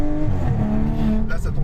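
An Audi S5 with a full exhaust system accelerates, its engine note rising and revving loudly through the gear, while someone talks over the sound.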